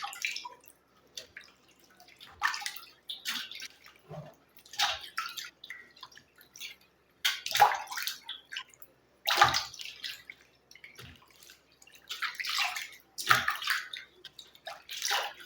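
Skin cream being rinsed off the face with water, with repeated splashing and dripping bursts coming in irregular waves, close and fairly quiet, with no talking.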